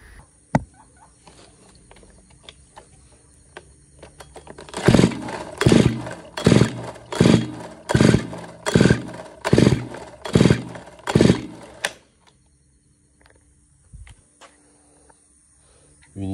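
A brush cutter that won't start, with about eight rhythmic, evenly spaced pull-start attempts in a row, each a short sputtering burst, loud and close, followed by quiet. No one speaks.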